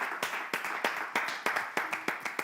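An audience applauds an 11-year-old girl contestant on a televised competition show with steady, rhythmic clapping. The claps fall in a fairly even beat, moderately loud and close, with no talking over them.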